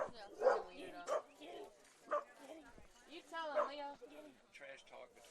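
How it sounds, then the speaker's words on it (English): Two dogs, a small wiener dog and a big dog, trade yips and barks back and forth outdoors at a college baseball game, with a broadcaster's voice talking over the exchange. "Got a barking contest."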